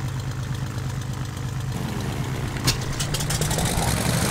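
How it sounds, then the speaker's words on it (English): The engine of a Carenado CT206H Stationair in X-Plane 10 runs with a steady low idling drone, with a brief click and a buzzy surge around ignition start partway through. "that was just me starting the ignition again"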